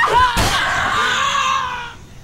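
A man screams loudly in fright while playing Dead Island, a sustained wavering cry just over a second and a half long, cut through at the start by a sharp thud.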